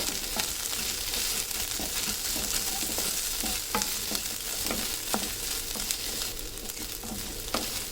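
Ingredients for a village-style dry fish curry (karuvadu kuzhambu) sauté and sizzle steadily in a pan, with repeated clinks of a stirring spoon against the metal throughout.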